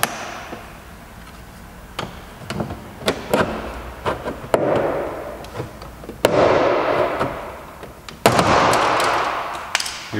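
Plastic clips on a Citroen C4 Picasso door panel snapping as the panel is pried off, a series of sharp cracks and pops at close range amid scraping and rustling.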